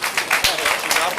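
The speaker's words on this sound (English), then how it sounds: "Can we clap for him, please?" Audience applause at the Ghana Football Association's 31st ordinary congress session: a dense, steady wash of clapping that runs the whole moment, with voices talking over it.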